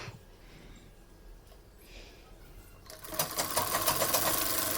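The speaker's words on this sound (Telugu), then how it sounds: "అది కుడుతున్నాను అన్నమాట" Sewing machine stitching a homemade newborn baby diaper, quiet at first and then whirring into a loud, steady rapid stitching run close up, with no talk over it.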